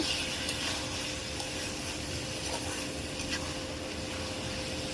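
A vegetarian dish is stirred in a cooking pan, giving a steady sizzle and soft scraping that run evenly throughout, close and moderately loud, with no talk.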